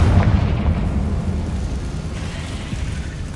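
In Hogwarts Legacy, a Confringo blasting spell bursts against a barricade: a heavy, rumbling boom hits at once and then slowly fades into a low, rolling decay.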